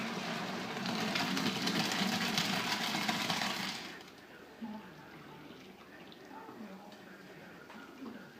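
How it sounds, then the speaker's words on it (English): Pasta cooking water tipped from a pot into a colander in a kitchen sink, a loud steady rushing pour for a few seconds before it stops, followed by quieter clatter and drips. "Very carefully tip the water off."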